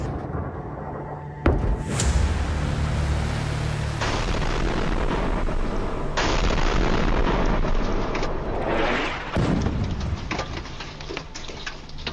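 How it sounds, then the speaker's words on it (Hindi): An Iranian missile strike exploding in Israel: a sudden loud blast followed by a long roaring rumble, then further crashing bursts and rolling booms, heavy and sustained over about twelve seconds. "इजराइल में फटने लगी 1 टन की ईरानी मिसाइल"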